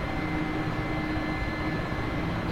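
Heavily loaded helicopter straining to climb during takeoff, a loud, dense, continuous engine and rotor roar close by with no voices.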